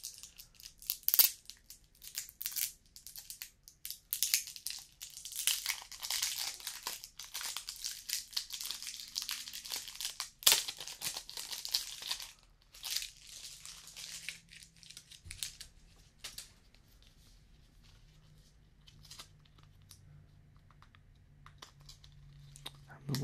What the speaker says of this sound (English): Watch me fumble with the packaging here.